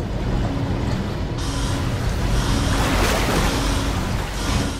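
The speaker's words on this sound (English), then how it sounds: "Is the water draining out?" Rushing water draining out of a flooded underwater facility in the sci-fi horror game SOMA, a steady loud wash of water with wind-like roar running throughout, no voices.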